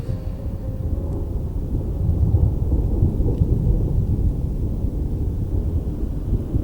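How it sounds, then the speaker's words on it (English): Thunder rumbles heavily over steady rain, a deep continuous roll that swells in the middle and stays loud throughout, with no voices. "Lightning cracks and thunder roars."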